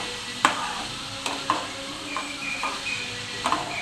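Onion and green chilli frying in hot oil for an onion curry, a steady sizzle broken by a few sharp scraping stirs of a utensil against the pan, close and alone.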